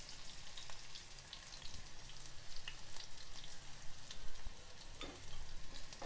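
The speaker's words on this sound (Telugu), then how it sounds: "ఇది కొంచెం వేగనివ్వాలి." Crushed green chili, garlic, cumin and black pepper frying in hot oil in a home kitchen, a steady crackling sizzle with scattered pops running throughout, close and moderately loud, no talking.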